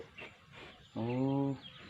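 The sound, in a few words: chickens on a farm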